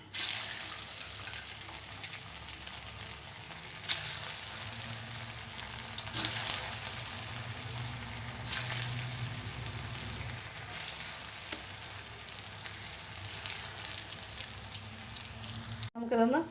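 Soya kababs fry in hot oil in a pan, a steady broadband sizzle running throughout with a few brief louder spikes as pieces are added or moved.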